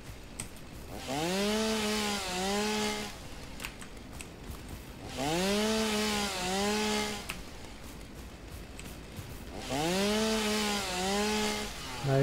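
A chainsaw in the video game Satisfactory cuts through foliage in three long bursts, each revving up with a rising whine and then dropping away, with quieter gaps in between and no talk.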